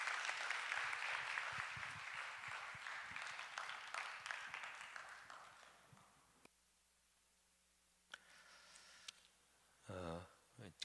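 A church congregation at a Sunday youth service claps fairly loudly for several seconds, fading out into near silence with a few faint shuffles and a brief voice.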